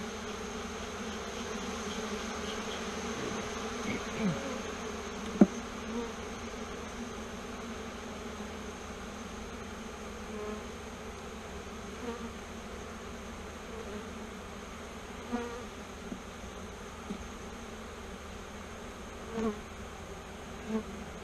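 Honeybees hum continuously around an open hive during a strong-colony checkup, a steady close buzz that persists throughout with occasional soft knocks and clicks from handling the frames.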